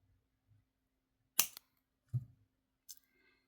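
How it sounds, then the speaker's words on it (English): Scissors snip jewelry chain links for a three-strand necklace of African turquoise and moss agate, giving a few sharp, faint, isolated clicks and cuts against a quiet background. "just snip off the last link."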